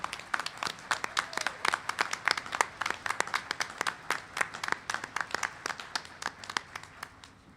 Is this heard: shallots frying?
no